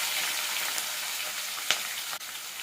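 Chopped onions, crushed garlic and cumin seeds fry in oil in a pan, giving a steady, even sizzle with a faint stir or scrape now and then and no talking.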